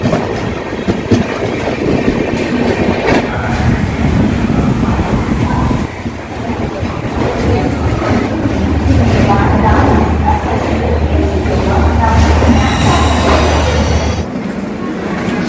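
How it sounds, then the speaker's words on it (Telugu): An express train pulls out of Washim railway station, running for the whole span with loud, continuous wheel and carriage rumble, rhythmic clatter and a low rising drone as it picks up speed. "7 minutes డిలేతో వసీం రైల్వే స్టేషన్ నుండి డిపార్చర్ చూడండి"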